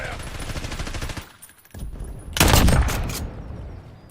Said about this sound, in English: Who's being shot at? Taking effective fire.